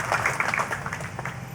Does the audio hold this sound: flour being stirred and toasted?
no